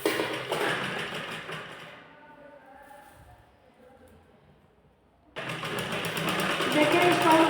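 A sewing machine stitches a blouse in two loud stretches of rapid, even mechanical whirring, with a quieter pause in the middle.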